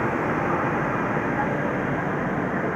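Railway locomotive rumbling past on a nearby track, a steady broadband roar with low-end vibration, heard from a waiting Humsafar Express train during shunting.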